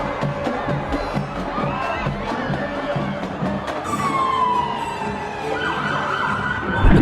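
A police car siren wails and sweeps in pitch over a murmuring crowd at a Christmas parade, growing more prominent toward the end as it seems to approach.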